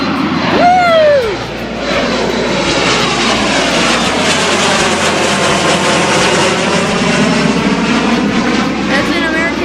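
An American Eagle airliner taking off roars with a loud, steady jet engine rumble that fills the whole stretch, with a brief voice and exclamation early on over the noise.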